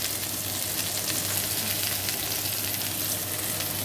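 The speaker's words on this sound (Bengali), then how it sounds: "ওই জন্য সর্ষে ফোড়ন দিলাম।" Mustard seeds crackle and sizzle in hot oil for a sweet-and-sour raw mango dish, a steady, dense frying hiss that runs unbroken and close throughout, with no voices.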